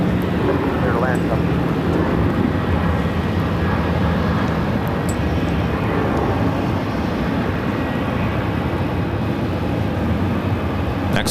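United Airlines Boeing 737 MAX 8, about a year old, landing on runway 26 at Phoenix: a steady, loud broadband jet roar fills the whole stretch, with voices talking over it.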